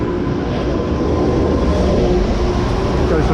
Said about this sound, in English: Goes the tram.